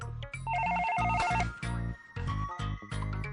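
A telephone ringtone heard during a phone call, a repeating electronic ringing melody with short pauses between rings, fairly faint.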